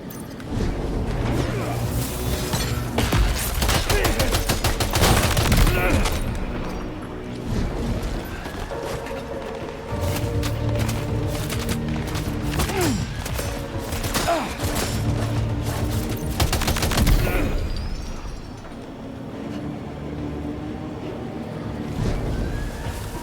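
Gunfire in the Death Stranding 2 video game, dense bursts of shots and crashes over a loud rumbling game soundscape with wind- and water-like noise, continuing for most of the stretch before easing near the end.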